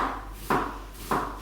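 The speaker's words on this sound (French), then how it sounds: "vous coupez l'oignon en deux et vous ciselez" A knife cuts finely through an onion on a board, giving two soft, quiet chops about half a second apart against a low background hum.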